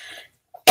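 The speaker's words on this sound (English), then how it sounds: "not allowed to cough in public anymore." A single short, sharp cough sounds close and loud at the end, right after a brief moment of quiet.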